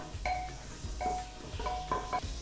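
Whole spices and cumin hit hot ghee in a pan for coriander coconut pulao, with a soft sizzle beneath repeated metal spoon scrapes and clinks against the pot, close and fairly quiet.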